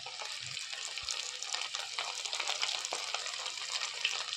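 Steady, close-up sizzling and crackling of food frying in hot oil, continuous throughout with faint clinks.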